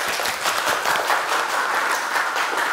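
Audience applause closing a student teaching-practice presentation at a university in Indonesia, a steady wash of many hands clapping together, fairly close and even in loudness for the whole stretch, with no talk over it.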